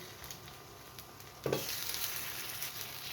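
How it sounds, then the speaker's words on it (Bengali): An egg paratha fries in oil in a pan, a soft continuous sizzle that swells into a louder crackle partway through, close by with no talk. "ডিম আর পরোটা একসাথে আর কি ভেজে নিচ্ছি"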